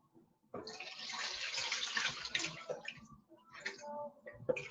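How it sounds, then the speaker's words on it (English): Greens for efo riro being washed in cold water, soft sloshing and splashing in a bowl, fairly quiet, with brief pauses between bursts. "I will do it once more and wash it with cold water once more"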